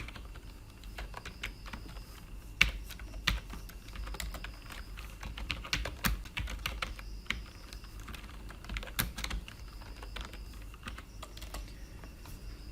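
Code being typed on a computer keyboard, a quiet close run of irregular key clicks with occasional louder taps and pauses, steady over several seconds with no speech.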